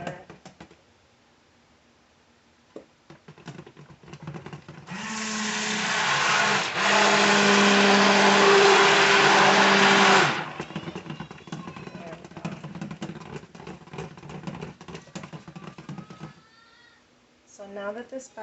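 A blender whirs loudly for about five seconds while mixing soap batter, briefly dipping once partway through, with a person talking before and after it.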